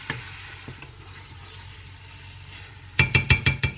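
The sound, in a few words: onion sautéing in pan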